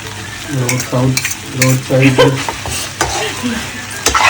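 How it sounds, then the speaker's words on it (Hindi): Noodles being stirred and tossed through masala in a frying pan at home, street-style ninja noodles, with repeated scraping and sizzling strokes close by and steady frying hiss underneath. "और अब नूडल को मिक्स करने के बाद ऑलमोस्ट रेडी है।"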